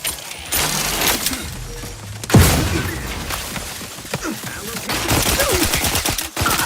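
Dense bursts of video game gunfire fill the clip, with rapid automatic volleys and a sharp loud shot midway, continuing as heavy overlapping fire to the end, with no talk.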